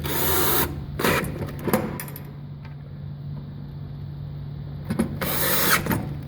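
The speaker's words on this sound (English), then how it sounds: "So first screw it down to your workbench." A power drill drives screws to fix a metal punch mounting bracket to a workbench, with short whirring bursts at the start and end and quieter handling noise between.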